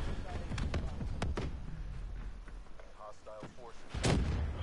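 Rocket explosion in the Call of Duty: Black Ops 3 game, with sharp blasts and thuds amid gunfire, and a heavy boom near the end, under a player's excited voice.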